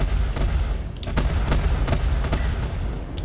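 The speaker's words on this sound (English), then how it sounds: "you get a split second to drop those neutron cannon shots." Sharp, punchy neutron cannon blasts from a spaceship in the video game Star Citizen fire in quick irregular bursts over a constant low rumble, loud and close.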